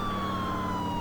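Police siren in the GTA video game with the LCPDFR and ELS mods, a steady electronic wail with a slowly falling tone, loud and continuous over a dense background hum.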